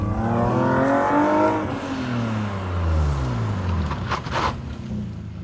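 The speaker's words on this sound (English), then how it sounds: "we've determined the car does in fact run, thanks to Mr. Patrick." A drift car's engine runs and revs nearby, its pitch climbing and falling through a couple of throttle blips before settling into a rough idle, loud and without talking.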